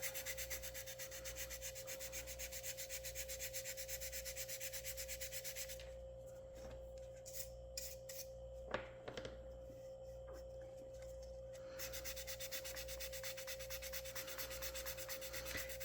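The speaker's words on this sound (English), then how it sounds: "and then I can sand it down flush" Steady close rubbing of sandpaper smoothing wood filler flush on the deck of a Muscongus Bay lobster smack model boat, a continuous rhythmic scratch that pauses briefly midway with a few small knocks before resuming.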